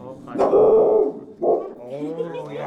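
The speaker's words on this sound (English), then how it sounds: "we meet Bob's boxer puppy" A boxer puppy gives a short bark followed by whimpering yips, heard close up inside a building in historic Globe, Arizona, while people talk nearby.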